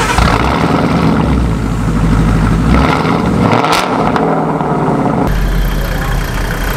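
A Mitsubishi Lancer Evo 10 engine runs loud and near, holding a steady, deep rumble with a slight swell partway through.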